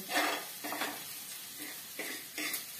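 Onion frying in hot oil in a home kitchen, a steady sizzle broken by a few scraping stirs of a utensil against the pan, close and moderately loud with no talking.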